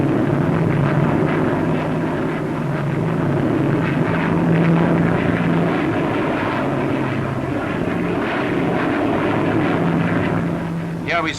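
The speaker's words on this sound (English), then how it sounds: "Here we see the first two Vulcans taking the air." Two Avro Vulcan delta-wing jet bombers take off at the Farnborough air show in the 1950s, a continuous loud roaring jet engine rumble with steady low drone throughout, archival newsreel quality.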